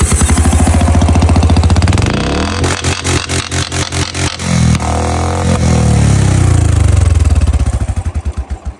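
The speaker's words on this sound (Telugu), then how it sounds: "ఒకసారి మన బండికి సైలెన్సర్ లేకుండా ఉంటే సౌండ్ ఎలా వస్తుందో ఒకసారి అయితే మీకైతే వినిపిస్తాను చూడండి" A Royal Enfield Classic 350 runs with its silencer removed, a loud, close, raw thump of rapid exhaust pulses that revs up and settles back to a fast idle before dying away.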